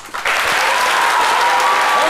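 Applause from a live audience at the FEMUA music festival in Abidjan, kicking in abruptly after a brief lead-in and then holding loud and dense to the end, with some vocal crowd noise mixed in.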